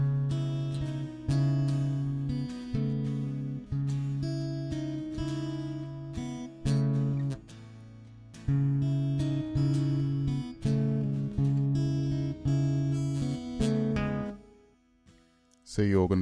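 An acoustic guitar plays a fingerpicked pattern for a song, with thumb bass notes and plucked upper strings in a steady repeating rhythm, close and clear, pausing briefly midway and fading near the end.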